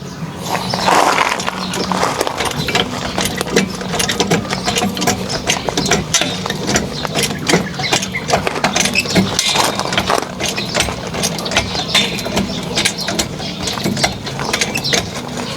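A Rusi Chariot 175 differential gearbox, leaking and low on oil, gives a loud continuous mechanical hum and grinding drone. The rapid rattling stays close and steady throughout.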